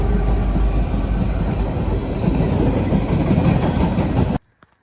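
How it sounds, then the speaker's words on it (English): A train roars past at close range near the Westmoreland Glassworks site, a loud continuous rush of rolling wheels and rattling cars that cuts off abruptly near the end. "Here comes the fourth train I've seen the last about hour and 15 minutes."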